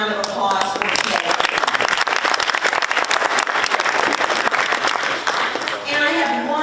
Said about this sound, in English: give them a round of applause for today